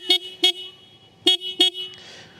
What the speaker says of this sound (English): horn check for the Kawasaki Ninja